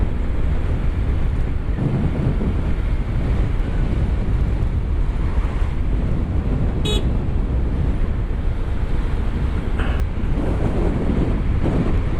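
Heavy, constant wind buffeting a microphone on a moving 125 cc motorcycle, a loud roaring rush that never lets up, with a brief faint tone partway through.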